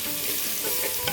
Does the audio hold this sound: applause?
no